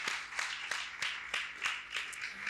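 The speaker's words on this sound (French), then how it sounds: "de prendre place sous vos applaudissements" A small audience applauds with sparse, distinct claps in an irregular rhythm, moderately near and fairly thin rather than a full ovation, at a debate event on diaspora and mobility.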